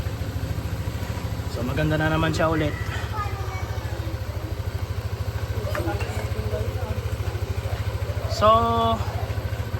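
A motorcycle engine idles steadily while warming up after a car wash, with a low, even putter throughout, while someone talks over it in short bursts.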